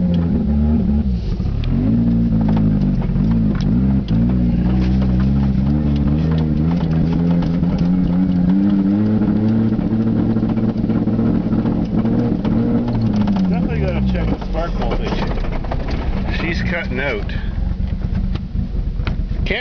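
Non-turbo Eagle Talon running with no belts on during a test drive, heard from inside the car as the engine revs climb and fall through the gears, loud and rumbling, with rattles and mechanical clatter.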